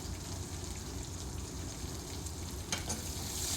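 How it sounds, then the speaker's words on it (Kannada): Curry leaves, garlic and onion fry in a hot pan, giving a steady, close sizzle with soft stirring scrapes and a brief clatter near the end, and no voices. "ಈಗ ಕರಿಬೇವಿನ ಸೊಪ್ಪು ಹಾಕಿದೆ ಮತ್ತು ಬೆಳ್ಳುಳ್ಳಿ, ಈರುಳ್ಳಿ ಇದೆಲ್ಲವೂ ಹಾಕಿ ಒಟ್ಟಿಗೆ ಫ್ರೈ ಮಾಡುವ"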